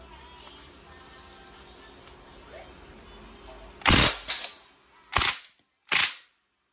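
A KWC CO2-powered steel ball submachine airgun fires on full auto in four short, loud, sharp bursts close by, after several seconds of quiet background.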